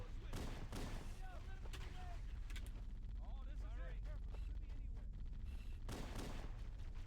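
Gunfire from the Halo CE video game, a steady barrage of sharp shots running through the whole stretch under a constant game soundscape, with a voice speaking at points.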